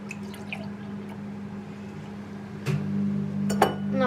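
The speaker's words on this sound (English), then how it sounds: "Pour the milk." Milk poured for coffee, a soft continuous liquid pour into a cup that grows louder and fuller near the end, with a faint clink.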